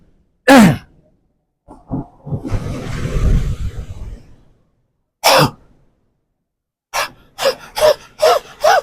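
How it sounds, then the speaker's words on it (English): Kapalbhati yoga breathing, with forceful, sharp exhalations through the nose in a quick rhythmic series. The breaths are loud and close, and a longer rushing breath and a couple of isolated puffs come before the run. "Again, Kapal Bhati, half breathing."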